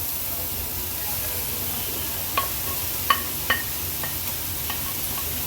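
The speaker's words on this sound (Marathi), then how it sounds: "आणि एक चार ते पाच मिनिटासाठी हाय फ्लेमवर आपल्याला बीट छान परतून घ्यायचं आहे" Grated beetroot stir-fried over high flame in a pan, a soft continuous sizzle and hiss with a few light clinks and scrapes of a spatula, close by and fairly quiet, without talking.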